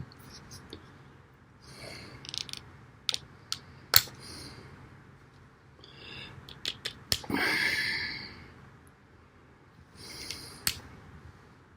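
A knife blade strips insulation off electrical wires, a series of sharp scraping snicks and brief rasping cuts at close range, with quiet breathing and handling between strokes.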